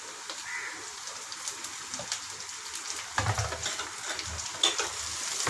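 Beef, onions and capsicum stir-fry in a hot pan with a steady bright sizzle, then louder tossing and scraping bursts in the second half, close by and with no talking.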